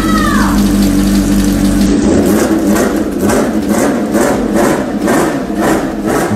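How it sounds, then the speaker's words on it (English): Kawasaki H2 motorcycle fitted with an H2R exhaust running inside a house, loud and close with echoing engine noise and pulsing revs; someone speaks over it briefly at the start. "I started the motorcycle in my living room."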